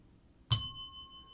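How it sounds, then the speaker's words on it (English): A single bright notification bell ding struck once, loud and close, its clear metallic tone ringing on and slowly fading over a faint low background hum. "ringing that notification bell"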